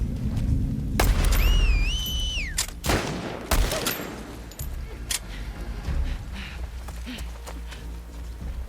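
Gunfire in The Last of Us Part II during a sniper encounter, with several sharp shots and booms scattered through a busy mix of game sounds, some close and loud, others fainter.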